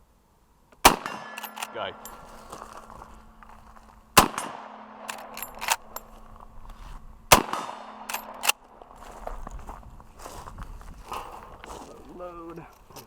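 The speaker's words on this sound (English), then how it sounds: "Shoot that target again." Shots from a Henry lever-action rifle fired at a target ring out as three sharp, loud cracks spaced a few seconds apart, with clanks from working the lever and metallic handling noise between them and a brief spoken word.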